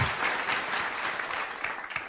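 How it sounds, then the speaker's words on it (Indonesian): Participants at a school finance management workshop clap together in a room, a dense, even round of applause that stays fairly loud throughout and tapers slightly near the end. "Jadi tepuk tangan buat Bapak Ibu semua nih."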